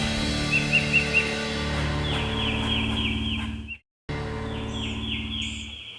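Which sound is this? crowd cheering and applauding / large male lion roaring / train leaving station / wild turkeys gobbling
wild turkeys gobbling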